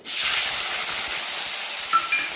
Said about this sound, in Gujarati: જરાક જીરું નાખે ને વઘાર કરી લઈએ તો જીરું આપણું તતડે ગયું